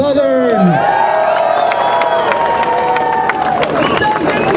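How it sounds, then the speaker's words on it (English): Crowd at a free speech rally in Berkeley cheers and applauds continuously, loud shouts and claps filling the space while a voice rises over the noise at the start. "I want you to give it up for Lauren Southern."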